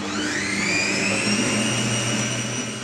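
Electric mixer beating icing sugar until combined, a steady close whirring motor drone that holds constant and loud without pauses or talk.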